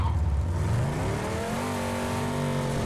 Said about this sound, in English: I hear another vehicle.